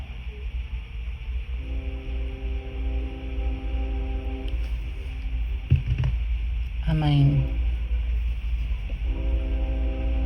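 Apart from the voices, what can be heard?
train passing in background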